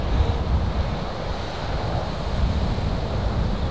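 Steady, loud wind buffets the microphone outdoors on a golf course, a continuous rushing roar with slight gusting swells and no voices.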